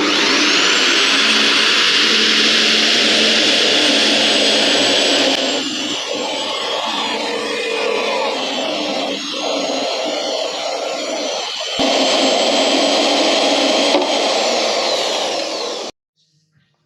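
Power cutting tool slicing through exhaust parts under a Chevelle, a loud, sustained high whine with a steady tone, dipping and changing pitch mid-cut before resuming and stopping abruptly.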